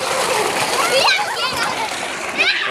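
Water splashing and gushing into a swimming pool, loud and close, with children talking over the steady splatter.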